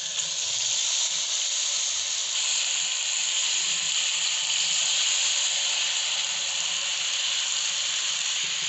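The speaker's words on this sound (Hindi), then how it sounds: "2 किलो मैंने चिकन लिया, वो इसके अंदर ऐड कर देंगे।" Two kilos of chicken dropped into hot ghee with tomatoes in a cooking pot, giving a loud, steady, continuous sizzling hiss that holds evenly throughout without a break.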